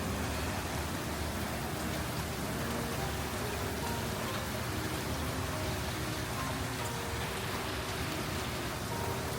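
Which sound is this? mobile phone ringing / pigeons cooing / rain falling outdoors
rain falling outdoors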